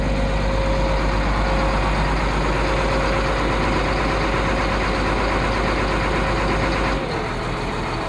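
A truck engine idles steadily and loudly throughout during an equipment appraisal, with the throttle being tested. The rumble holds even and shifts slightly near the end, with no talking.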